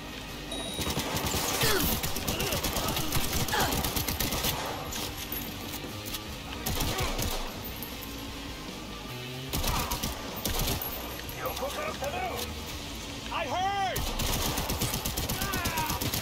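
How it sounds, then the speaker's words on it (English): A sentry gun in the video game Cybersauce 2096 fires long rapid automatic bursts, loud and close, broken by short pauses, with game sounds and someone talking in between. "They got a fucking sentry gun."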